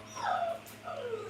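A dog whimpers in two drawn-out, falling whines, close and fairly loud, with no clear barks and a low steady hum behind.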